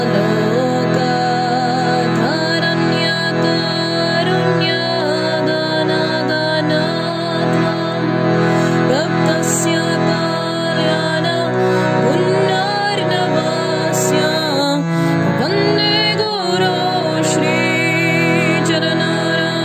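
Harmonium chords for Samsara Dava played at a steady, slightly quickened pace, with sustained reedy harmonies and a simple melody line over them, loud and close with no talking.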